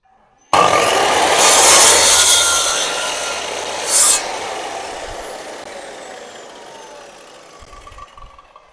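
A handsaw cuts through wood in a backyard building project, a loud continuous rasping stroke that starts abruptly and then fades gradually as the cutting slows.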